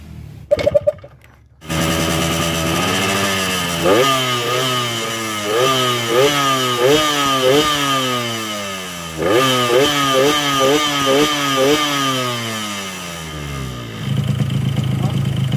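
A Yamaha RX-King motorcycle engine with a very rough-running fault revs repeatedly in rough, uneven bursts, rising and falling in pitch, loud and close after a brief noisy start.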